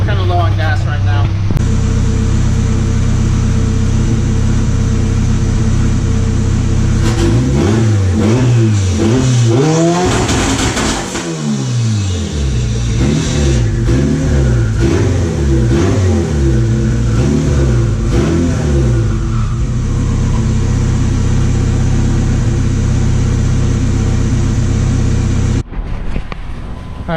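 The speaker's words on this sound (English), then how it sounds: "first, I guess I'm going to go ahead and test the two-step and then turn it off" A Mitsubishi Galant VR-4 engine idles loud and close, then revs in rising and falling bursts while two-step launch control is tested, settling back to a steady idle before cutting off near the end.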